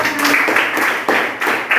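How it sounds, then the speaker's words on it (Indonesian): Classroom students clap together in short bursts, sharp and close, with a few brief pauses between rounds and a voice faintly present. "Tepuk tangan dulu."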